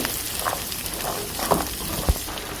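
Potatoes and chickpeas frying in a pan, a low soft sizzle under a few scattered scrapes and taps of a spoon being stirred through them.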